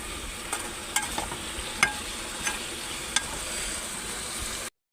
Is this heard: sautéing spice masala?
yes